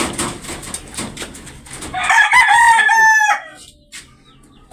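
A rooster crows once, loud and nearby, at a cockfighting event, its drawn-out call rising over a noisy background, followed by quieter ambient sound.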